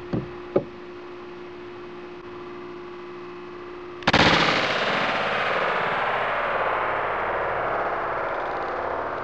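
12 gauge shotgun fired at a ballistic plate, one sharp loud blast followed by a long ringing decay, preceded by two small knocks.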